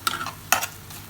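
A spoon stirs fennel powder into curry frying in a pan. Two short scraping strokes come through over a soft, steady sizzle.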